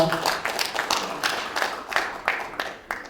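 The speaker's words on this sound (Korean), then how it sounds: "다시 한 박수 부탁드리겠습니다" Scattered, uneven handclaps from an audience at a Korean economic policy forum come in short bursts, close and moderately loud, with no voices.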